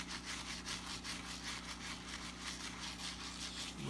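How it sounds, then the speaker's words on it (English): Medium bristle brush scrubbing Air Max 95 sneakers in fast, steady back-and-forth strokes, a close, continuous rasping scrub over a low background hum. "But we're using our medium bristle brush right now. We're just gonna scrub"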